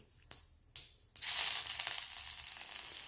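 Grated ginger dropped into hot oil with crackling mustard seeds and cumin, a few sharp taps giving way to a loud, steady sizzle that softens slightly as it goes on, with no voices.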